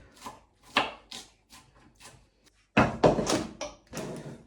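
Kitchen knife finely dicing garlic cloves on a cutting board, a run of quick irregular chopping thunks, lighter at first and then heavier and closer, with no talking.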